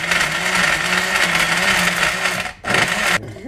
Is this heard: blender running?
yes